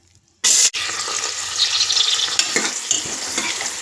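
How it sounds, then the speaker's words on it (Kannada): Onions dropped into hot cooking oil for a bamboo shoot and chicken curry, bursting into a loud, sudden sizzle that continues as a dense, steady crackling hiss close by, with a brief break after the first splash. "ಎಣ್ಣೆ ಕಾದಿದೆ. ಈಗ ನಾವು ಅದಕ್ಕೆ ಈರುಳ್ಳಿಯನ್ನು ಹಾಕಬೇಕು."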